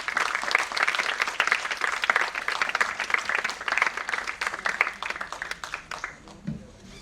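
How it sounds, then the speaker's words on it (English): An audience at an awards ceremony breaks into loud, sustained applause, dense clapping that carries on for several seconds before tapering off near the end. "So the loud of applause has to be very loud."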